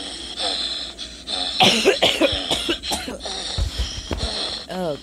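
A person coughs several times in short, rough bursts while playing the horror game Granny Chapter 2, with some throat clearing and breathy sounds mixed in, close to the microphone.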